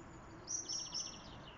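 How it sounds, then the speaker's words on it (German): A blackbird sings from a tree in rainy outdoor weather, three short bright phrases in quick succession, fairly faint and distant against a quiet background. "Amsel und so ein Singvogel."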